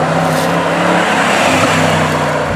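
A Jaguar sedan's engine runs loud and steady close by, its tone rising as the car accelerates, with a brief shift in pitch midway and no voices over it.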